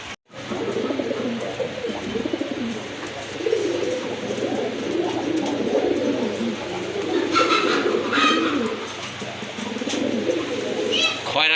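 Pigeons for sale in Bangladesh coo steadily and close by throughout, a dense layer of soft, repeated calls. A few brief chirps come near the end, and people talk over the birds.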